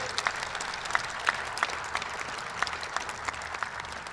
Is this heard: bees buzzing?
no